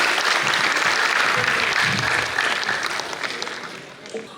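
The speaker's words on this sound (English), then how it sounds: "Kindly welcome them with a big round of applause." An audience at an engineering institute's graduation day ceremony breaks into loud, sustained applause that slowly thins and fades toward the end.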